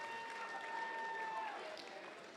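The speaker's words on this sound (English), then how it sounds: "Give yourselves a round of applause for being patient and going through this process." Faint, steady applause from an audience at a 7th-grade middle school awards ceremony, a continuous patter of clapping filling the hall with some voices mixed in.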